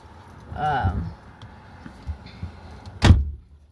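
A single sharp door thud near the end, following a muffled voice and some shuffling; windy background.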